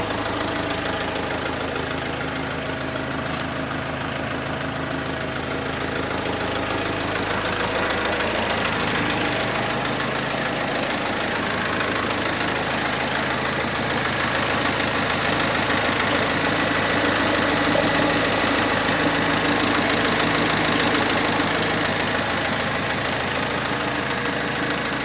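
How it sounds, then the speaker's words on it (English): Kubota Grand L4060 tractor with a 42 horsepower, naturally aspirated 4-cylinder diesel sits idling close by, a steady, even low rumble with a slightly knocking mechanical chatter that holds unchanged for the whole stretch, with no voices over it. "a 4-cylinder naturally aspirated engine. It has 42 horsepower with a 32 horsepower rear PTO."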